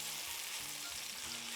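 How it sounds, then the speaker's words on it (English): Steady, quiet sizzling of garlic frying in a pan, a continuous crackling hiss with no talking. "Listen to that sizzle."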